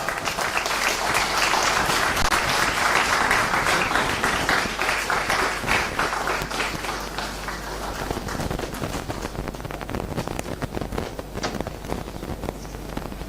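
An audience at a university convocation ceremony applauds a graduating student with dense clapping that is strongest early on, then thins and softens into scattered claps toward the end.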